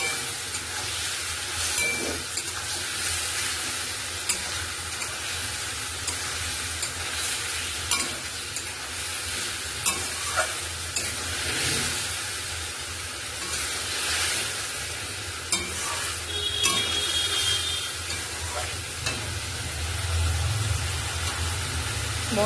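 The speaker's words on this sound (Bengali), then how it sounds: "মশলা কষানো হয়ে গেছে," Spices frying and being stirred in hot oil for a thin rohu fish curry, with a steady bright sizzle and hiss broken by repeated scraping stirs, close and loud with no talking.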